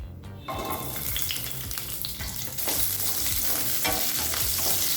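Urad dal and small shallots fry in hot oil in a pan, a loud continuous sizzle that swells as the shallots go in, with stirring scrapes and no talking.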